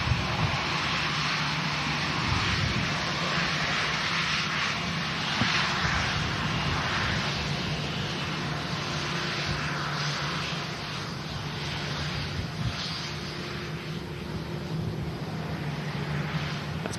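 An Airbus A330neo airliner flies past during stormy conditions, its engines producing a continuous broad roar mixed with wind buffeting the microphone, steady and fairly loud throughout.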